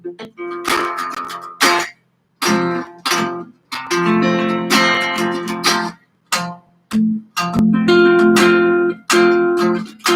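Guitar chords on the bottom four strings are strummed in short bursts with brief silent gaps between them, bright and close, each chord ringing for about a second before being cut off.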